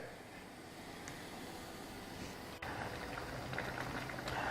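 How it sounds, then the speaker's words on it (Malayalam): Pulinkari, a tamarind coconut curry, simmering in a pot with a steady soft bubbling hiss that grows slightly louder partway through, heard alone and fairly quiet. "ഇനി ഇതൊന്ന് നന്നായിട്ടൊന്ന് തിളക്കട്ടെ കേട്ടോ, നാളികേരത്തിൻ്റെ ഒരു പച്ചക്കുത്തൊക്കെ ഒന്ന് പോയി കിട്ടട്ടെ."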